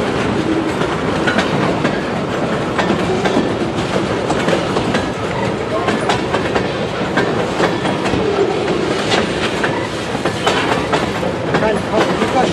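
A train rolls past on the railroad near Emmett, Michigan, a loud, close, continuous rumble with rhythmic clickety-clack from the wheels and a faint voice now and then.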